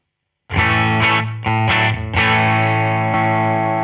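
An electric guitar through an amp-simulation plugin on a clean preset rings out as a few strummed chords, loud and sustained, each attack bright and the last chord left to hang.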